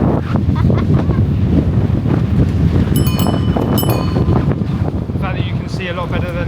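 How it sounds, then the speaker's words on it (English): Strong gusts buffet an outdoor microphone in London, a heavy rumbling roar with some faint background clatter and tonal beeps partway through. "It is really windy though"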